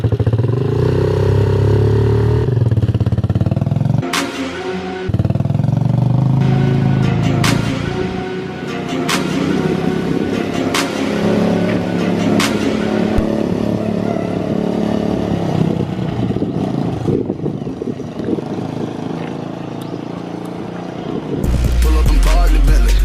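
A motorcycle engine idles and revs loudly up close, dropping into first gear with clunks and clatter before the engine note swells and settles into a steady running drone.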